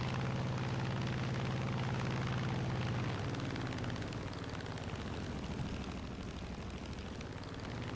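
Aircraft engine drone in War Thunder as a plane drops a pair of bombs, a steady loud propeller hum that gives way after a few seconds to a broad rumbling blast and continuing roar.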